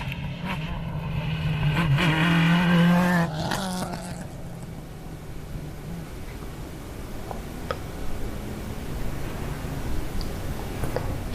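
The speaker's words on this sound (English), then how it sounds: "Three different generations of rally car." A car on a forest stage at the Lombard Chepstow Rally Festival passes close and loud, its engine note swelling and then fading into distant engine noise and ambient rumble, with no talk.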